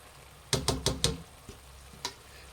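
A spoon clatters four times in quick succession against a pan while spices are stirred into matar paneer gravy, followed by two softer knocks over a quiet sizzle, close and without talk.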